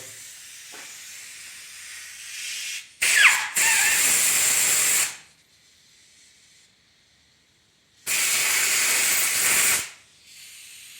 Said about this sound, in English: we'll take the air hose and blast it out